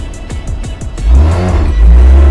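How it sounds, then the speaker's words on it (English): A black turbocharged car pulls in, its engine revving loud and close with a few quick throttle blips before a sustained, deep rising roar, no voices. "he's just pulling in with this beautiful black turbo"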